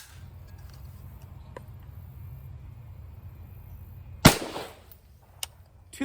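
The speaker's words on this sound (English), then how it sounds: "next we have the M855 out of the 16-inch barrel." A single loud, sharp crack of an M855 rifle round fired from a 16-inch barrel, close by and following a quiet stretch of low outdoor rumble, with a small later click.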